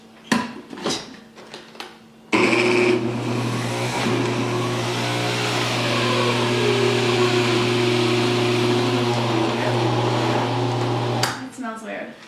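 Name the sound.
juicer motor running until it burns out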